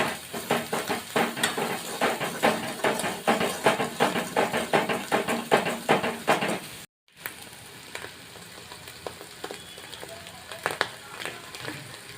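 Chicken masala is sautéed in oil in a pan with a steady sizzle and rhythmic scraping and clinking of a spoon as it is stirred, then a brief pause before a quieter sizzle with occasional clinks.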